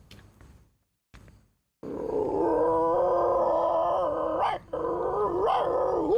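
A performer vocally imitates two different dog breeds fighting, a loud continuous stream of snarls, growls and howls after a few short opening yelps and brief pauses, with no talking.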